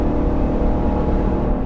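A 2021 GMC Yukon AT4 with its 5.3 liter V8 pulls hard under load while towing a travel trailer, giving a steady, loud engine drone mixed with road and cabin noise.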